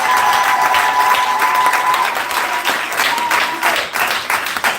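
Congregation applauding and cheering in a Montreal tabernacle church, loud continuous clapping from a full crowd with a faint tone running through the first part.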